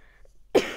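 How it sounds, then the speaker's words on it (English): A single short, close cough bursts out after a moment of near silence, loud and throaty. "Sorry for coughing."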